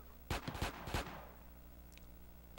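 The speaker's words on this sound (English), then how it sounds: "Let them shoot all they want." Gunfire in GTA San Andreas: a quick burst of four or five sharp, loud shots within about a second, followed by faint distant pops over a low steady background hum.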